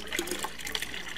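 Water poured into a brewing pot while making a pale ale, a brief splashing, gurgling fill that sounds close and moderately loud, with no talk.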